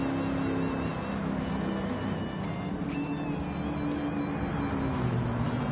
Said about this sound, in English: Gotta love the sound of that American V8.